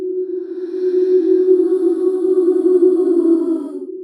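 A sustained vocal tone is smeared by granular synthesis, with the grain size changing over time, into a shimmering, granular texture, holding steadily for a few seconds before fading out.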